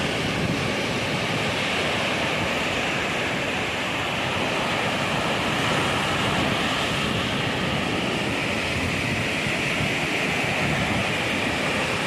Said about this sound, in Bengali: ওই যে পানি আসার সময় যে আওয়াজটা করছে